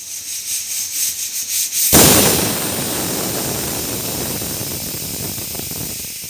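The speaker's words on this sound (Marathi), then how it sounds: "छान कुकर लावून घेते आणि 2 ते 3 शिट्ट्या काढून घेते." A pressure cooker cooking dal for an aloo fatfata pulses a few times, then bursts into a loud, sustained hissing whistle of escaping steam that holds steady to the end.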